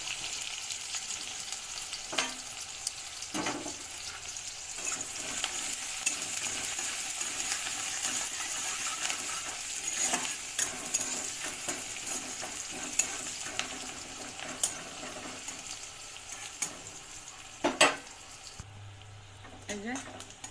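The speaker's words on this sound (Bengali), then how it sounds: "এই যে পেঁয়াজটা হালকা করে ভাজা হয়ে গেছে" Sliced onions fry in hot oil tempered with five-spice, giving a soft, steady sizzle with occasional clinks and scrapes of a utensil against the pan.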